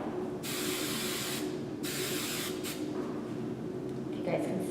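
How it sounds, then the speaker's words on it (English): Tresemme hairspray hisses onto hair in two close, sustained bursts, each lasting about a second with brief pauses between, while quiet talk sits underneath. "I'm going to spray it."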